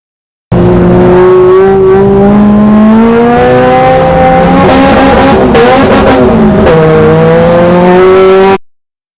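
A race car accelerating at the green flag of a heat race, its engine loud and close, climbing in pitch through gear changes with a stumble in the middle, then revving on, engine alone throughout.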